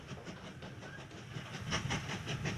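A quiet, steady rumble of a train running in the Mashinky railway game, with soft repeating wheel clatter and a light hiss that swells a little toward the end.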